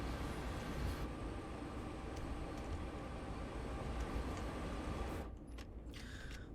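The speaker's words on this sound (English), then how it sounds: "And of course, we have a long train of intermodals." A long Union Pacific freight train of intermodals hauled by SD70ACe locomotives in Train Sim World 4, a steady broadband rumble and wheel roar that holds evenly, then thins near the end with a few faint clanks.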